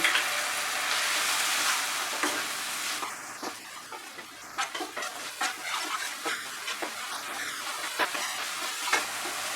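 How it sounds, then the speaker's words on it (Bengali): Spice paste of turmeric, salt and sugar fries with a splash of water in a pan. A strong hiss gradually eases into a softer sizzle, broken by intermittent stirring taps. "অল্প জল অ্যাড করে মশলাটাকে কষিয়ে নেব"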